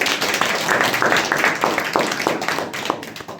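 A youth meeting audience claps in a dense, steady patter of many hands that fills the room and holds for several seconds, fairly loud, with a voice faintly underneath.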